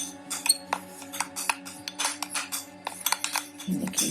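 A utensil stirring aloe vera gel and a coffee scrub paste in a small dish, giving quick irregular clinks and scrapes close by, with soft talk beneath and a muffled rustle at the end.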